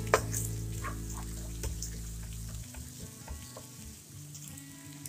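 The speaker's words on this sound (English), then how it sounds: "we need to fry the ginger garlic paste till the raw smell goes." Ginger garlic paste frying with onions and turmeric for paneer bhurji, a continuous close sizzle with occasional stirring scrapes and no talking.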